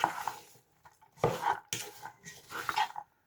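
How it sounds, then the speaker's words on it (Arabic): Meat being stirred with spices in a metal cooking pot for a Moroccan peas stew, a few scraping, clattering bursts of spoon against pot separated by short quiet gaps. "نحركو هكا باش تدخل فيه العطريه مزيان"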